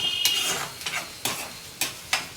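Onions frying in a pan for fish curry, a soft steady sizzle punctuated by four or five regular scraping stirs of a utensil, close and fairly quiet.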